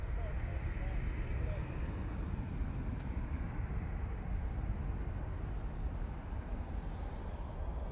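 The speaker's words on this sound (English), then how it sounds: "Here's the Ryanair 737-800. And that's off to Fate Paris." A Ryanair Boeing 737-800 jet taking off from Manchester Airport, a loud continuous low-heavy engine roar that stays steady and full for the whole stretch.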